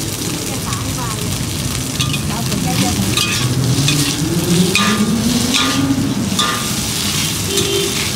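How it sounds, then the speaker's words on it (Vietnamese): Rice flour cake (bột chiên) fries in a pan with a steady, loud sizzle and occasional stirring or scraping, with voices murmuring faintly in the background. "nhìn bà làm, nhìn chị chiên á"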